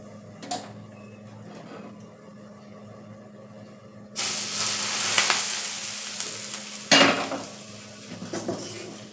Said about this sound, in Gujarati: આપણું તેલ ગરમ થઈ ગયું છે હવે આપણે તે ભાજીમાં એડ કરી લેશું